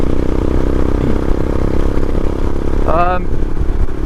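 A faulty Royal Enfield motorcycle engine runs with a steady, loud, close idle-like chug and clatter. A brief voice rises over it near the end.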